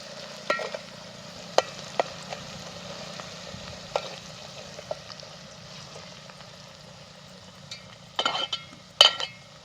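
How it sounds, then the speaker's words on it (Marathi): Onion and masala fry in a pan over a lowered flame. There is a soft, steady sizzle with occasional stirring scrapes and clicks, and a couple of sharper clatters near the end. "कांदा मस्त तळून झाला त्यात मसाला पण तळून घेतला चांगला"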